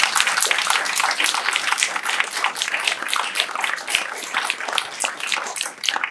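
Audience at a public parks meeting applauding park system staff: a continuous, fairly loud crackle of many hands clapping that carries on unbroken for several seconds, with no speech over it.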